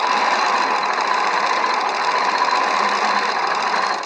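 A Qnique quilting machine turned by hand, giving a steady, dense mechanical whir and rattle that holds constant and close for about four seconds before tapering at the end.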